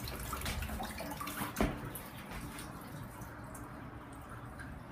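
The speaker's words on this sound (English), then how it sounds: "is leaking from multiple areas when turned on. You can see those drips coming from the valves" Water running and dripping from leaking faucet valves in a rental property during a move-out inspection, a steady near wash of flow with a sharp drip-like tap partway through.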